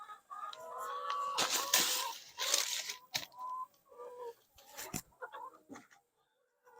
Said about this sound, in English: Got a couple of hens in here.